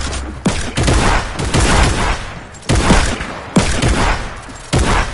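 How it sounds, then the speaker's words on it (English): Many players firing at once in a Fortnite Team Rumble match, loud overlapping gunfire in dense repeated volleys with brief gaps, close and alone without talk. "I just hear like 10 kids shooting at once"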